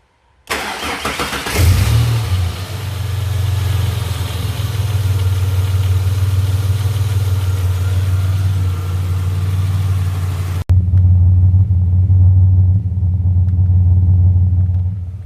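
Ford Falcon EF XR6 engine cranks and fires, then settles into a steady low rumbling idle, heard close and loud, with a brief cut partway through before the idle continues.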